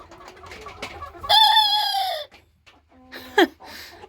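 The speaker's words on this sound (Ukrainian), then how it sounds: "Але поки що тільки один півник співає." A single rooster crows loudly and close by, a long drawn-out call, followed by a shorter, sharper squawk a moment later.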